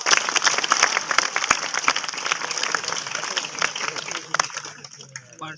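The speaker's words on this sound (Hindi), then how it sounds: "1 2 3 गो, तालियां बेटा" Audience applause after a balloon magic trick at a stage show, a dense burst of many hands clapping close by for about five seconds before fading out, with a voice briefly audible at the end.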